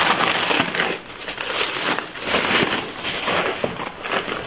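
A bag of charcoal bought for burning incense crackles and crinkles as it is handled, giving a close, continuous plastic rustle with uneven swells.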